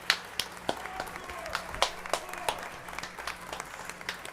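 Scattered clapping from people at a Los Angeles city council meeting, a thin spread of individual claps with a few sharper ones standing out, faint and somewhat distant.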